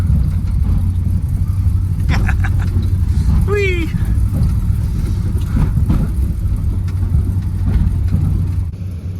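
1970 Plymouth Road Runner with triple Holley carburetors rumbling steadily from the cabin, a low continuous engine drone throughout, while a voice briefly whoops over it.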